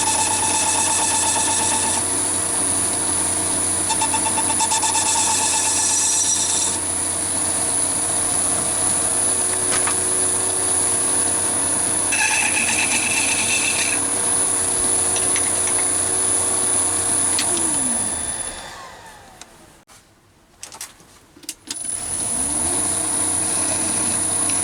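A Chinese mini lathe turns brass while decorative grooves are cut into it, giving a steady motor whine with a high-pitched tone and intermittent cutting chatter. Near the end the machine briefly slows and goes quiet, then resumes running.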